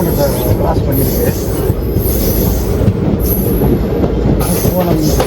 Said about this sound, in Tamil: ட்ரெயின் இப்போ தான் அரக்கோணத்தை கிராஸ் பண்ணியிருக்கு.